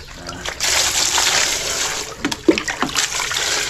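Water is poured into a cooking pot for a snail dish, a steady splashing trickle that runs for a few seconds, followed by a few louder sloshes and knocks close to the microphone.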